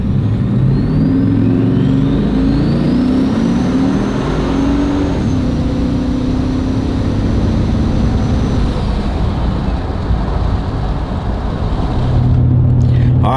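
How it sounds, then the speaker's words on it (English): A GMC Yukon SUV making boost accelerates hard during a ride, giving a loud, sustained engine roar with rising whine that sweeps upward through gear changes, heard from inside, close and continuous without talk. "It's my first ride in the SSUV with it making some boost."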